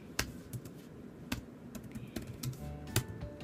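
Keys clack on a computer keyboard in short scattered taps and small bursts, close and fairly quiet, with no speech over them.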